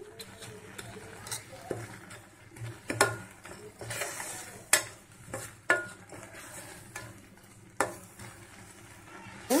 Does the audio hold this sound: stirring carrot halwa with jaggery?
yes